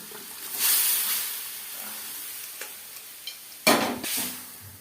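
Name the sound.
mutton added to pan and stirred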